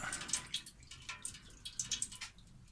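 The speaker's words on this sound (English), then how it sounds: "We'll let it drip." Water drips off a soaked helmet after cleaning, a quiet scatter of irregular small drops and trickles against a faint background, with no talking.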